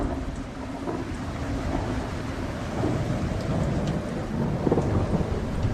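Steady heavy rain pours with continuous low thunder rumbling underneath, a dense, full wash of storm sound throughout.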